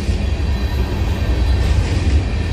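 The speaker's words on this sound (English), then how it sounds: "That's nice, nice little slow train." A slow CSX freight train led by two locomotives rumbles by, a steady low-pitched roar that holds throughout with no voices.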